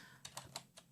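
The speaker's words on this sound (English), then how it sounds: "if you hear a little bit of tapping, it's me pecking away on my keyboard" Someone pecks at a computer keyboard in a few light, separate taps, close and quiet.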